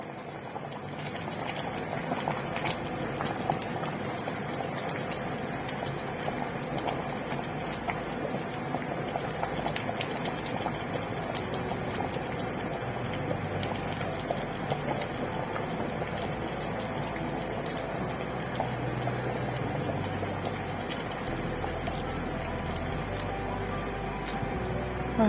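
Okra and eggplant sauce simmering in a pot, a steady bubbling and soft gurgle that holds evenly and close throughout, with no talking over it.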